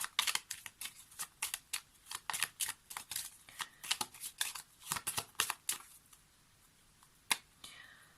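Lenormand oracle cards being shuffled by hand, a quick series of crisp riffling bursts in a steady rhythm, close and moderately loud, ending in a few scattered taps.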